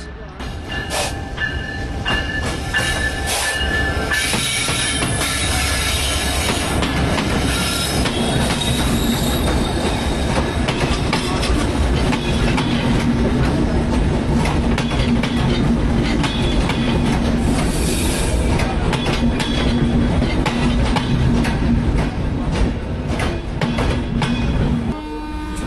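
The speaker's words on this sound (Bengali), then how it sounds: "অপর দিক থেকে ছুটে আসছে একটি লোকোমোটিভ দেখা যাচ্ছে, তার আলো।" A locomotive passes at night on the Padma Express run from Dhaka to Rajshahi, heard from aboard the train: a loud, continuous rail roar with rumbling wheels and squealing, steady throughout with a voice faintly beneath.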